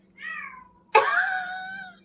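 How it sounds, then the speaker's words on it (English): A cat yells, giving two loud meows close by, the first a brief rising call and the second a sharp, drawn-out wail, with a low steady hum behind. "Is that your cat? I was like, can you hear her? She is like yelling."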